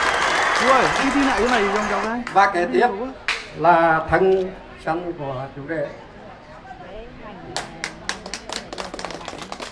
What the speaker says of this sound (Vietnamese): cho một tràng pháo tay.